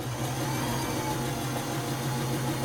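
A domestic sewing machine stitches fabric with a steady, continuous motor hum and fast mechanical whir, running evenly and fairly close throughout with no talking.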